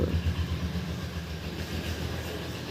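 A train crossing a bridge in Sylhet makes a continuous low rumble with faint rhythmic rattling, steady and moderately distant throughout.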